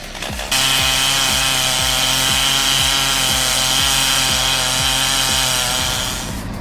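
A chainsaw with microchain cutting a log during tree felling, the engine screaming at high throttle while the chain bites steadily through wood, loud and close, tapering slightly at the end.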